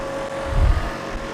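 A DC shunt motor runs at about 2734 rpm on a fixed supply of roughly 233 volts, with its field current cut to 0.1 ampere. It gives a steady, even whine over a low rumble that swells briefly midway, with no voices.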